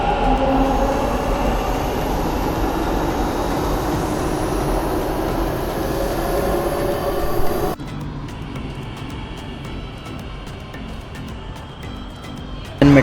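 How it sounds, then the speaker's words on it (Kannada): A Bengaluru metro train pulls out of a station with a loud, steady rumble of wheels and motors. After several seconds it drops off sharply, leaving quieter platform ambience with faint ticking. "ಜಸ್ಟ್ ಮಿಸ್ ಆಯಿತು ಮೆಟ್ರೋ."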